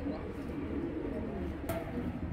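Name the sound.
male pigeons cooing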